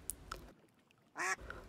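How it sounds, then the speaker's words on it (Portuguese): A duck quacks in a few short, sharp bursts with brief pauses between them, close and fairly faint, with no talking around it. "Som do pato."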